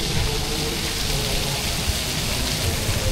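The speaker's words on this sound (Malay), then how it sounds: "Hujan semakin lebat." Heavy rain falls outdoors at LEGOLAND Malaysia theme park, a dense, steady hiss that fills the whole stretch with no breaks.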